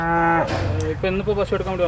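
Dairy cows at a large cow farm in Palakkad give a loud, close, drawn-out moo that falls in pitch, followed by shorter lowing calls.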